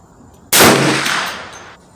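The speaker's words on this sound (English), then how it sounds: "I'm gonna be taking 3 shots at 50 yards with high" A single sharp gunshot from a free-floated Hi-Point 1095 10mm carbine fired at a 50-yard target, a loud close crack that decays over about a second of outdoor echo.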